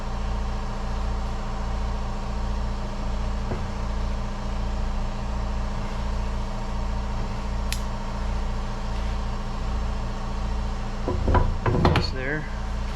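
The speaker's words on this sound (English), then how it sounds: "My air compressor kicked on, so you probably can't hear a word I'm saying" A garage air compressor runs with a steady, pulsing low drone throughout, while brief clanks and knocks from work on a truck's U-joints and driveshaft rise near the end.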